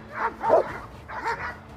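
A Boerboel, the South African Mastiff guard breed, gives two short, deep barks with a yelping edge, moderately close and separated by a brief pause.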